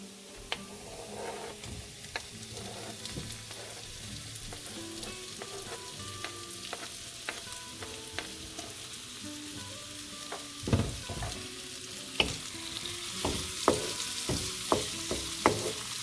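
Chopped onions fry gently in oil in a pan over low heat, a soft steady sizzle running throughout while a spoon stirs and scrapes, with sharper clinks and taps growing more frequent toward the end.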